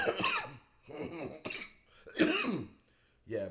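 Several rough coughs and throat-clearing bursts come in quick succession from one nearby person, fairly loud with short pauses between them.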